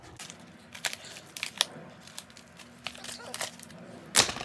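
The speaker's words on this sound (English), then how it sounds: "So let's get the scissors out. Open this bad boy up." Scissors snip and crinkle through a glued cardboard cosmetics mystery-bag package: a string of short, close, sharp cuts and crackles at irregular intervals, ending in a louder tearing burst.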